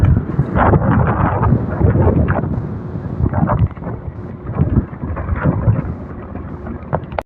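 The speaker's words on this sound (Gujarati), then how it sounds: "આપણે કરી નાખી બાઈક ચાલુ." Strong wind buffets the microphone while a motorbike is ridden, producing a loud, continuous rumbling roar with gusty surges and no talking.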